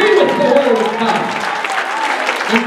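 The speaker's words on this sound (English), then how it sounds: "can you clap your hands and receive it?" A church congregation claps hands in a dense, loud burst of applause that carries on steadily, with shouting voices mixed in.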